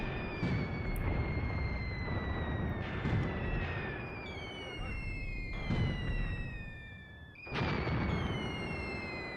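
Artillery fire falls on trenches in Graviteam Tactics: Mius Front, with several heavy booms and bursts spaced a few seconds apart among whining, descending tones and ongoing battle rumble.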